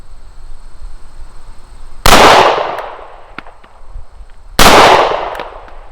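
CZ P09 pistol firing at steel Texas Star plates on a range, two sharp loud shots a couple of seconds apart, each with a ringing decaying tail.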